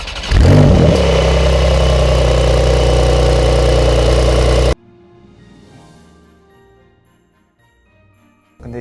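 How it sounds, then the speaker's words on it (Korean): A Porsche 911 S coupe idles and then revs hard, its exhaust letting out a loud, sustained engine roar for several seconds. The roar cuts off abruptly into a quieter idle and near silence, and a new rev starts at the end. "배기음도 한번 들어볼까요?"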